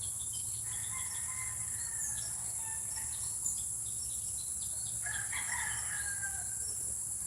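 Faint, distant rooster crows twice on a farm over a steady high buzz of crickets and insects outdoors.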